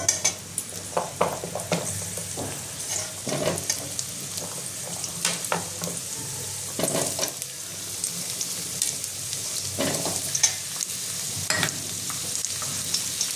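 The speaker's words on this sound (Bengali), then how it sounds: "এবার আলুটা ভেজে নেবো আমি। এবার আমি আলুটা ছেড়ে দিলাম।" Potatoes frying in oil in a pan for a Bengali cabbage curry with fish head: a steady close sizzle, broken by repeated scraping and clinking of stirring, with no talk.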